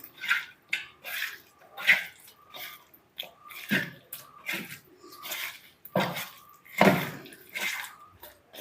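Tamarind being washed by hand under running water for a mackerel (ayala) curry, with intermittent splashing and dripping bursts, moderately close and irregular, with no voices.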